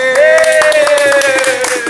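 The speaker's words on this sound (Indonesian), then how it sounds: "Kita tepuk tangan adik-adik" Children clap their hands during an online Sunday school gathering, a steady patter of many small claps under a sustained tone, with a voice sounding faintly in the background.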